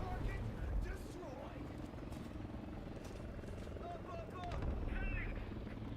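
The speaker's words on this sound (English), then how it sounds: "Is that a enemy helicopter?" A helicopter's rotor thumps steadily in the distance under game engine rumble in War Thunder-style tank combat, with chirpy effects and a voice speaking over it.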